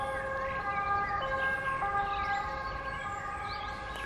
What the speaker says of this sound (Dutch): Het klinkt heftig, al die sirenes hier omheen.